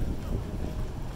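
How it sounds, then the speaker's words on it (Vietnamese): Strong outdoor wind buffets the microphone at a market plant stall, a steady low roar throughout with no pauses. "Anh em nhìn gió to như này."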